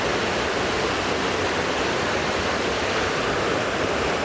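Waterfall pouring steadily in the open, a dense, even roar of falling water with mist, loud and close, no voices.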